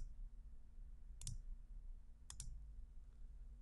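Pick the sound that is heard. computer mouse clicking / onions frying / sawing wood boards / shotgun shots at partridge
computer mouse clicking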